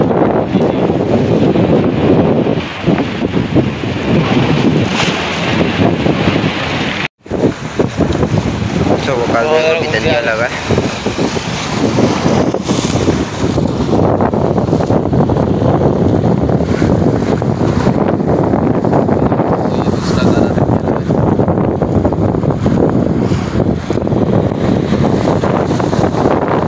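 Strong wind roars across the open sea during rain aboard a fishing boat off Karachi after a cyclone, a constant loud rush of gusts and water noise with a voice talking over it throughout.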